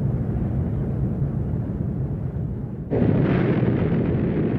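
Atomic bomb explosion over Japan in the Pacific War, a deep sustained rumbling roar that abruptly surges louder and brighter partway through, rolling on heavily without a break.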